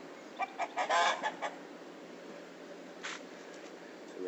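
A red fighting rooster in Manglar Alto, Ecuador, lets out a short, fairly close call, with a fainter call a couple of seconds later, over a steady background hiss.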